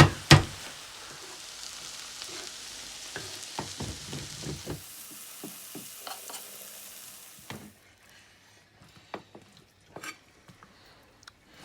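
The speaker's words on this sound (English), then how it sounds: "So sweating down the onions, peppers, chilies, carrots, celery and garlic." Onions, peppers, chilies, carrots, celery and garlic sizzle in a hot pan while a utensil stirs and scrapes, the frying hiss fading off partway through to quieter clinks.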